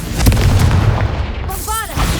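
A Confringo spell blast in Hogwarts Legacy goes off as a loud, punchy burst with a booming low rumble, followed by a brief bright whooshing magical shimmer.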